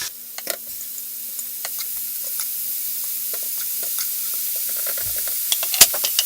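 Burgers fry in a hot pan, giving off a steady crackling sizzle dotted with sharp pops and spatters, close by, with a few louder crackles near the end.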